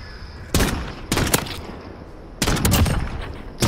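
Video game gunfire comes in three loud, close bursts of rapid shots, separated by short quieter gaps, with no talking.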